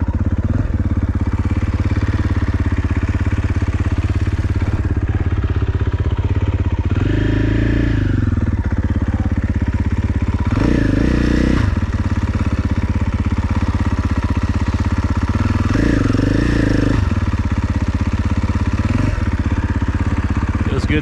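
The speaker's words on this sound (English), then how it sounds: "That Akrapovic exhaust has such a different sound than stock." A 2021 KTM 450 SXF Factory Edition dirt bike fitted with an Akrapovic exhaust, steady loud engine drone with several throttle blips, close and continuous throughout during a first break-in ride.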